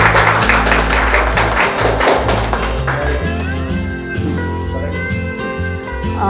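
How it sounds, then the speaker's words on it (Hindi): Teachers at a teaching-materials workshop in Hasanganj break into a burst of clapping, a thick rapid patter for a few seconds that gives way to steady tonal music sounding on alone. "एक बार ताली बजाइए आपको।"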